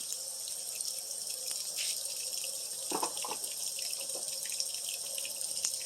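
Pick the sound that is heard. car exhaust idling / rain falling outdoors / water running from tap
water running from tap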